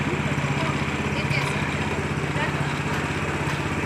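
A Mahindra Paddy Walker 6-row rice transplanter's small engine runs nearby with a steady, rapid buzzing putter at an even level, and a voice is faintly present over it.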